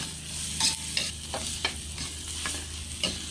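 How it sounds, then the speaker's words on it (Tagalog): Ginger, garlic and onion sautéing in a pan, with a steady sizzle and several sharp scrapes and clinks of a utensil stirring at irregular intervals, close and moderately loud, no talking. "umpisa na po natin ginisa yung ating luya, bawang at syempre yung ating sibuyas"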